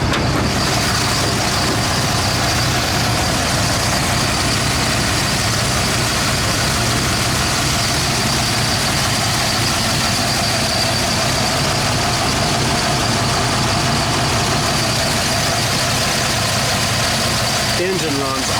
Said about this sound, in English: Engine runs awesome.